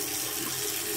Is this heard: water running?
yes